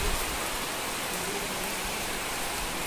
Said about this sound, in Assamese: এইফালে বৰষুণ দিলে কাৰণে ইয়াতে ৰৈ দিলোঁ